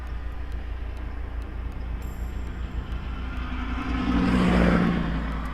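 A car passes by on the road, heard from inside a Mazdaspeed 3 over a steady low engine drone, swelling louder and closer for a moment before fading slightly.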